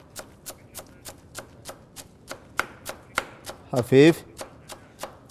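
A knife finely chopping fresh dill and mint on a board, crisp evenly spaced taps in a steady rhythm, close and clear, with a brief spoken word partway through.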